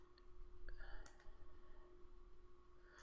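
A computer mouse button clicked while working in CamWorks software, a couple of soft, brief clicks close by against a faint steady hum, with no speech.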